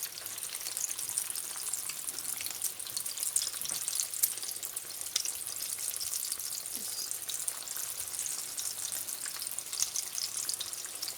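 Red kidney bean kebabs frying in hot oil over medium heat, a steady, fairly quiet crackling sizzle that runs on evenly at close range with no talking.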